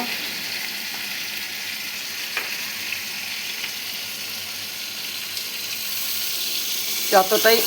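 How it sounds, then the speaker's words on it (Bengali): Kochu lotti cooks in a pan with mustard, ground coconut and poppy seed, sizzling steadily at close range with a few clinks, then a short burst of bubbling hiss near the end as water goes in. "একটু জল দিয়ে দেব।"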